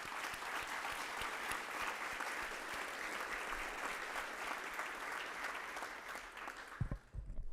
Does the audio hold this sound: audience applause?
yes